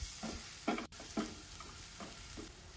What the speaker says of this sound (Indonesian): Panaskan minyak goreng sedikit, kita tumis dulu bawang merah